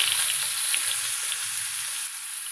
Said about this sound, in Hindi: अब जो आम कटिंग करके रखे थे वो डाल देंगे।